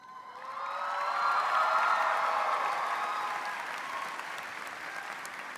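A big high school graduation crowd applauds a staff member's recognition with dense, sustained clapping and some cheers, swelling then easing slightly while staying loud across the whole stretch.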